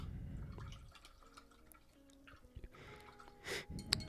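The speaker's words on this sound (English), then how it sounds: "Go ahead and rinse my brush." A watercolor paintbrush is swished and tapped in a water cup, producing faint close drips, small splashes and clinking taps, quiet and intermittent with no talking.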